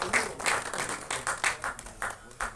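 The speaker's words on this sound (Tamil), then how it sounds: "ஒரு பெரிய கைத்தட்டல்" An audience at an album song screening festival with film awards claps in several uneven bursts of applause, moderately loud and rising and falling across a few seconds, with no one speaking.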